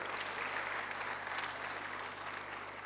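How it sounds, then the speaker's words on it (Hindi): An audience at a Sir Syed Day gathering claps in honour of guests, a faint, even wash of many hands applauding at a distance, steady throughout with low hum beneath. "आपके एहतराम में हम सबसे तालियां बजवाएंगे"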